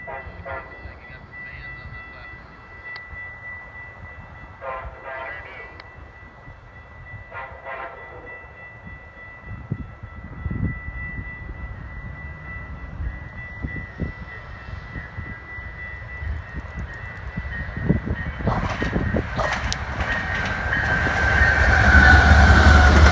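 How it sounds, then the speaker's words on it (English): Amtrak Empire Builder passenger train passing eastbound, a long rumble that builds steadily from distant to close and loud, with horn blasts early on and rattling wheel clatter swelling near the end. "Amtrak train 8 to Empire Build Eastbound."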